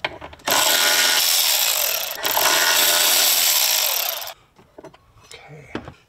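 A power tool driving a Torx 40 bit whirs loudly and steadily for about four seconds, pausing briefly midway, while removing bolts on a Jeep Wrangler JL Rubicon during a soft top installation; quieter handling noises follow.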